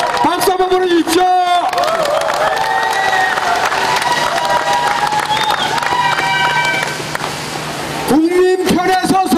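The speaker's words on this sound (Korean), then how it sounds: "여러분들의 마음도 한결 같으면 박수 한번 보내주십시오" A large crowd at an outdoor election campaign rally claps and cheers in a sustained, dense wash, with a speaker's amplified voice and background music carrying over the applause before a brief pause at the end.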